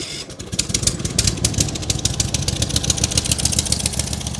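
AF flail mower engine idling, a close, steady rapid chugging putter with a dense regular pulse throughout, loud and alone with no talking.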